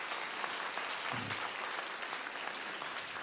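Church congregation applauding during a Korean revival service, a steady wash of clapping from a large crowd that fills the whole moment with no voices over it.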